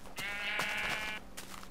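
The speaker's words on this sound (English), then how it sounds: "Score. Black sheep." Blocky video-game sheep, including a black one, bleat in a single clear, fairly loud drawn-out call, then give a shorter second bleat moments later.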